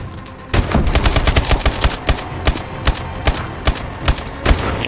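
Shotgun fire in Call of Duty: Advanced Warfare, a fast flurry of sharp loud blasts at first, then individual booming shots spaced about half a second apart.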